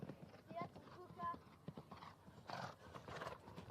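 Horse hooves thud on turf during an eventing show jumping round, soft rhythmic beats under a commentator's steady talk, with crowd ambience in the background.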